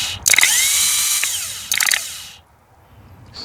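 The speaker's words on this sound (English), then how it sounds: "Test the starter before reinstalling." A Honda CR-V starter motor spins on a bench test in two short bursts, a loud high whirring whine that winds down after each press, with a brief click between.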